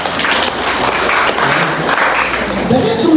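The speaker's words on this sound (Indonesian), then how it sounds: "Silakan tepuk tangan Bapak Ibu." At a school farewell ceremony for ninth-grade students, parents in the audience applaud with loud, dense, continuous clapping that fills the room evenly from start to finish.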